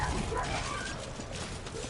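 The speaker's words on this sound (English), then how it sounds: "Yeah, there's a lot of dogs around here." Dogs barking amid a dense game soundscape of the video game Lies of P, the barks blending into steady mechanical and ambient noise with no talk over them.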